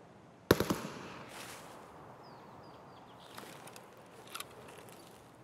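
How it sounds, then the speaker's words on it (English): Gunfire in the shooter game Escape from Tarkov: one sharp close burst of a few rapid shots, then fainter scattered distant pops against quiet ambience. "Someone actually shooting at me, or?"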